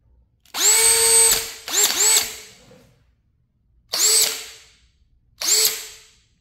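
A power drill drives in caps for Paco Moto Strong Arms on an NA Mazda Miata. Four close whirring bursts rise in pitch as the motor spins up, then stop, with pauses in between.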